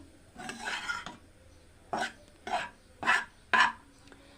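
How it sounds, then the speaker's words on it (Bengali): Kulfi premix is stirred and dry-roasted in a wok over low to medium heat, giving five separate scraping, rasping strokes of a spoon against the metal, each lasting under a second, with short quiet pauses between them. "রাখার পর 2 থেকে 3 মিনিট অনবরত নেড়ে চেড়ে এটাকে ভাজা ভাজা করে নিচ্ছি"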